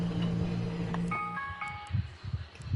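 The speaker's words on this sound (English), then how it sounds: "The alarm been going off this whole time." A car alarm in a PS5 session of the racing game Assetto Corsa Competizione wails with steady electronic tones, then shifts to a warbling, chirping pattern over low background noise.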